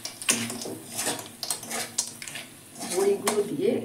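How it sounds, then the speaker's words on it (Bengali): A spoon stirs vori lentil dumplings in a pan of spiced yogurt curry, making repeated clinks and scrapes against the metal pan with a steady stirring rhythm throughout. "বড়িগুলো দিয়ে একটু নেড়ে নেব।"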